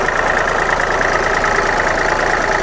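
A secondhand Kubota L3408 tractor's diesel engine ticks over at idle, close and loud, with a constant low chugging drone and an even mechanical knock, no voices over it.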